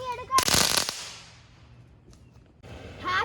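Firecrackers bursting in a park during a July 4th outdoor gathering: a sharp, crackling burst of rapid pops, then quieter background with faint voices nearby.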